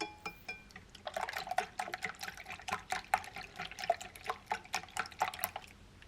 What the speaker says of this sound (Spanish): Y a continuación los batí con unas varillas